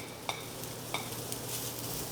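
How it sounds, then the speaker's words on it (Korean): Bacon and sliced onions stir-fried in a pan make a soft, continuous sizzle, broken by a few light scrapes of a spatula on the pan, heard close and fairly quiet with no talking. "양파까지 잘 볶아줬다면 베이컨 넣고 볶."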